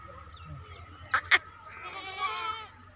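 A goat of the makhi cheena breed, up for sale, lets out one drawn-out bleat fairly close by, preceded by two sharp clicks over a low, steady background hum.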